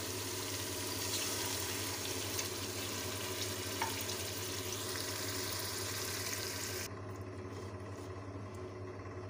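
Lentils fry with a steady sizzle in a pressure cooker; then a glass of water pours in and the hiss drops to a quieter bubbling.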